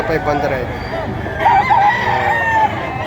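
A rooster crows at a gamecock market in Padre Garcia, one long clear crow rising mid-clip over background chatter and other fowl, with someone talking nearby.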